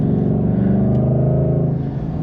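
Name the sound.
2025 Ford Mustang Dark Horse engine accelerating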